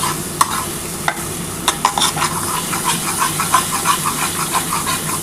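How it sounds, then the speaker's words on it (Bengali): Masala spice paste sizzles in hot oil for a Katla fish curry, with a steady frying hiss and repeated clinks and scrapes of a spoon stirring in the pan. "খুব ভালো করে কিন্তু আগে প্রথমে মশলাটা কষাতে হবে।"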